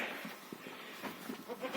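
Young goat kids bleat at bottle-feeding time on a goat farm, a few short, fairly quiet cries scattered through the barn's background noise.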